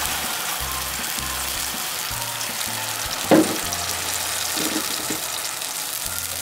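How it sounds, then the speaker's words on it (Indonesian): Spice paste for green mussels in Padang sauce sautéed in a pan, giving a steady close sizzle throughout with a brief louder clatter of stirring midway. "kemudian tumis bumbu halus."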